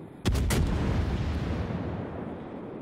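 Naval gunfire from the cruiser Edinburgh in World of Warships: a close, booming salvo of a few rapid shots, then a long rumbling decay with no talk.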